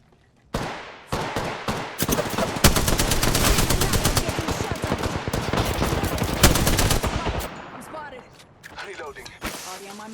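Rapid automatic gunfire from a first-person shooter fills the scene in long, loud bursts of dense shots, then trails off into scattered quieter mechanical clicks and effects.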